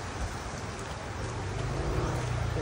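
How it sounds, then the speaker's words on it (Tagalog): Steady rain falls during an outdoor jog, a dense continuous patter with low rumbling underneath, close and even throughout with no voices. "even it's raining"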